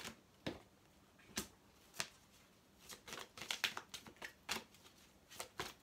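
Tarot cards being shuffled for a reading, a run of soft riffling slaps and quick card flicks, close and fairly quiet, coming in uneven bursts that grow busier midway with no one talking.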